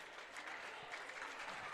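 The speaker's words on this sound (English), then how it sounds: "Clapping." A crowd claps steadily at a high school boys' wrestling match in a gym, a faint, even wash of applause lasting under two seconds with no break.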